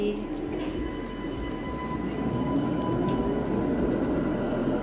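An old Budapest tram rumbles past with low rolling noise and faint metallic squeals and clicks from the rails, building slightly toward the end.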